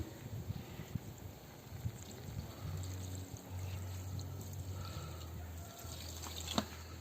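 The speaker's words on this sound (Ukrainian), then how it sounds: "Додамо ще трішечки водички." Water pours quietly into a kazan of Georgian lamb chakapuli, giving a faint trickling splash over a few seconds amid soft kitchen clatter.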